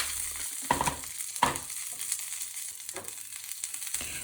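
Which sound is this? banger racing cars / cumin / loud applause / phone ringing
cumin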